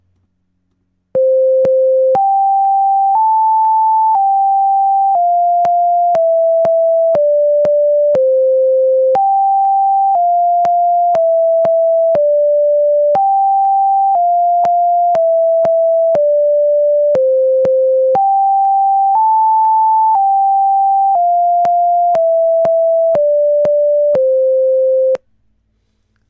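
Pure synthesized tones generated in MATLAB from fundamental frequencies, stepping through a simple melody of sustained notes with sharp clicks at each change, loud and steady for about 24 seconds with no voices.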